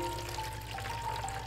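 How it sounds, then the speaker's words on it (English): Fresh water and warm salty water pour together into an aquarium tank fitted with a divider, a steady, close, continuous splashing rush that fills the whole short stretch. "Let's pour them into the tank at the same time."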